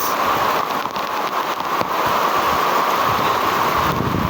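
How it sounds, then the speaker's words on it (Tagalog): Heavy rain pounds on a hut in a dense, unbroken roar of hiss and patter, loud and close for the whole stretch, with no one speaking. "grabe lakas ng ulan"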